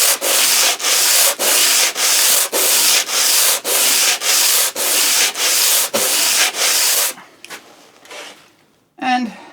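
A Melbourne Tool Co. cabinet scraper is pushed across wood in about a dozen rapid, evenly spaced rasping strokes, close and loud. The strokes stop, and a few faint scrapes and handling sounds follow.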